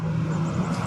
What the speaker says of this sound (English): I'm not sure if you hear that plane in the background,